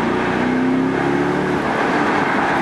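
BMW 650i Cabrio V8 engine pulling hard under acceleration, a loud continuous rising drone with rough texture, heard throughout without speech.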